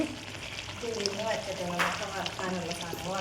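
Beef sizzles steadily while it fries with black pepper powder in a pan and is stirred. A voice talks quietly over the constant frying noise.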